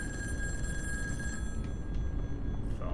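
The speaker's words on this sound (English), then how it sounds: "Phone call?" Telephone ringing in the horror video game In Sound Mind, an electronic ring with a sustained tone, fairly faint over a low ambient game background, no voices.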